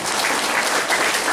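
Brief, dense applause from an audience at a Safe Shop direct-selling program, a steady wash of many hands clapping at an even, fairly loud level with no voices over it.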